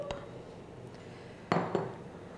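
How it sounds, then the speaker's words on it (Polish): Corn tipped into a pot of softened meat gives two quick clattering clinks close by, with a low kitchen background murmur before them. "najpierw dodaję kukurydzę"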